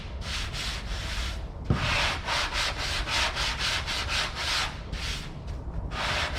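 Rhythmic back-and-forth rasp of 80 grit sandpaper worked across a dented car body panel, steady close strokes repeating alone without voices.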